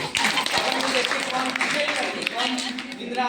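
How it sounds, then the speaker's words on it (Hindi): Loud, dense applause from a seated audience at an RCM achievers' meeting in Masaurhi, steady throughout with voices mixed into the clapping. "उनके लिए जोरदार ताली बजाइए"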